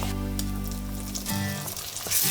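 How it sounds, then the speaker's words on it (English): Ginger and garlic fry among golden onions for a lamb curry, giving a close, bright sizzle with crackling bursts over a low background hum that fades partway through. "Fry off the ginger and the garlic."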